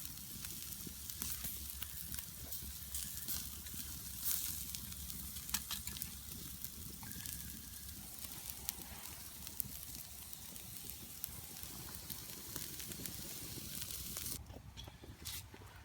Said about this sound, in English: Burgers are on.